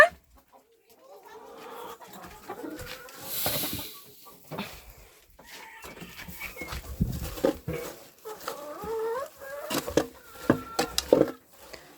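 Chickens cluck and squawk in scattered bursts around a farmyard, with other birds and faint voices in the background.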